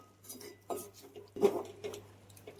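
Grated carrots and jaggery are stirred together in a metal pot for carrot halwa, with quiet irregular clinks and scrapes of a spoon against the pot and a low hum underneath.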